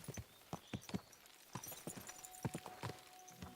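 Horse hooves trot in Kingdom Come: Deliverance II, a quiet rhythmic clip-clop of repeated hoofbeats at an even pace, fairly faint and steady throughout.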